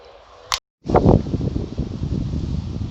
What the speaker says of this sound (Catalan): Quin vent.